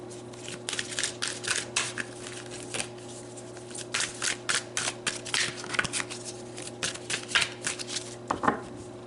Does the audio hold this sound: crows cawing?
no